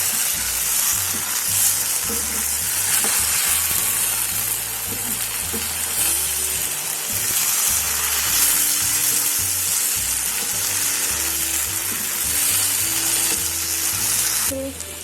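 Beef handi kabab mixture sizzles and fries steadily in a pan while being stirred, a loud continuous crackle with rhythmic scraping of the spoon throughout, no voices.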